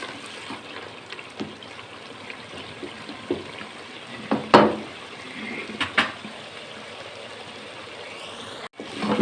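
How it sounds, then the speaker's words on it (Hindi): Spices being roasted and stirred in a pan over a high flame while making Lahori chana, a soft steady sizzle broken by a few sharp scraping and clinking stirs of the spoon against the pan. "मसालों को नाज़रीन हमने इसमें अच्छी तरह भूनना है। फ्लेम को मैंने दोबारा तेज़ कर दिया है।"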